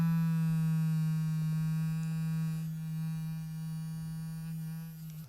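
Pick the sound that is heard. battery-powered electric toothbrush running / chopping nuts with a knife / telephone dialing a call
battery-powered electric toothbrush running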